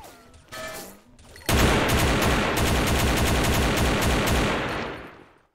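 Sustained automatic AK rifle fire in the shooter game XSHOT, a loud, dense burst of rapid shots lasting several seconds after a brief quieter lead-in, with no talking.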